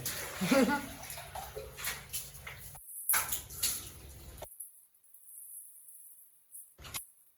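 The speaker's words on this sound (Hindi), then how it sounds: "सीधा पानी मेरे पे आ रहा है।" Water pours from a drum and splashes in uneven bursts, close by, with a voice speaking and stretches of silence between.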